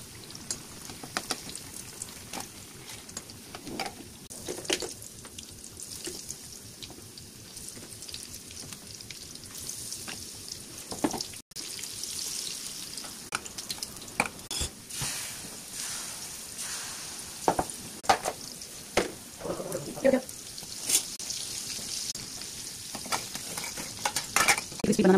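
Banana bajji, raw plantain fritters, frying in hot oil, with a steady low sizzle and scattered clinks and stirring taps from a utensil against the pan throughout.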